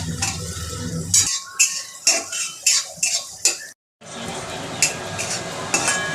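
Tomatoes frying in a pan, stirred with a metal utensil that clinks and scrapes in repeated close strokes, then after a brief silence a steady sizzle with occasional taps.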